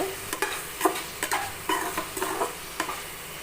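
Okra sautéing in a pan, heard as a series of sharp spatula scrapes and clatters at an irregular rhythm over a faint sizzle, fairly quiet and close.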